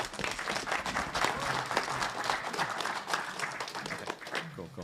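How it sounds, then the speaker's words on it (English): Audience applause with some cheering from a crowd, a dense, lively burst of clapping at moderate volume with voices mixed in throughout. "Give him a round of applause."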